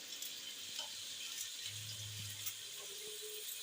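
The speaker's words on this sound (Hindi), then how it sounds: "यहाँ नूडल्स के पानी को बॉयल आ चुका है। इसके अंदर मैं डाल दूंगी नूडल्स।" Noodles dropped into boiling water in a pan for a spicy chicken noodle recipe, a faint bubbling and sizzling hiss with soft clinks and stirring, quiet and close with no voices.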